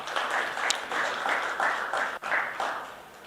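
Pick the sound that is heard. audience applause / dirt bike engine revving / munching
audience applause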